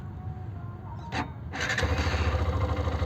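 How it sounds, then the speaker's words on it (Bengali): A fuel-injected Hero Xtreme 125R motorcycle starts up: a brief mechanical click and whir of the starter, then the engine catches and settles into a low, steady, pulsing run, heard up close. "স্টার্ট হয়ে গেল কিন্তু একবারই"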